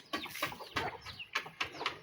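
Chickens cluck in short, soft bursts around a village yard where a hen sits on eggs, with a few quick calls spaced through a quiet background.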